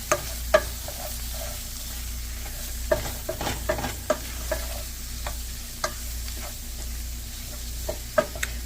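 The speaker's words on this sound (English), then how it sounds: "gonna start stirring" Seasoned plant-based meat, with pepper and salt, is stirred in a pan, a spoon scraping and knocking in scattered sharp clicks over a steady low sizzle, close and fairly quiet.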